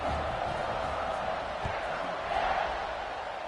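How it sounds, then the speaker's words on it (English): A stadium crowd roars in a college football video game as teams line up for a kickoff, a dense, steady wash of cheering with a brief swell near the end. "They're set to kick it off, and this crowd now ready to get behind them."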